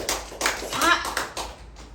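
A church congregation gives a short burst of rhythmic clapping during a Sunday worship service, close and lively, mixed with voices.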